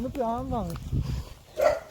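A dog gives a drawn-out yelping bark, then a short sharp bark follows after a brief pause, fairly close.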